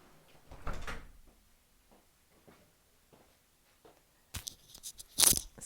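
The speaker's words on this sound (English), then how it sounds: "She's scratching at the door." A dog scratching at a door, heard as a few quick rasping scrapes near the end after quiet stretches of faint shuffling and a soft earlier knock, fairly close, with no voices.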